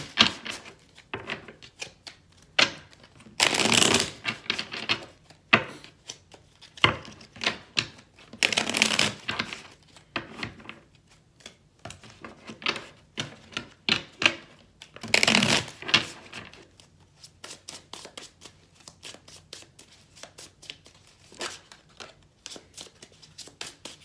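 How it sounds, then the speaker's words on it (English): Tarot cards being shuffled by hand over about twenty-four seconds, with bursts of riffling and flapping and softer tapping and sliding between them, heard close with no talking. "So let me shuffle the cards."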